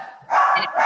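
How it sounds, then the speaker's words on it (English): Dog barking in a home during a real estate phone call, a few loud yips and barks in quick succession up close, with a person speaking briefly. "That's my dog."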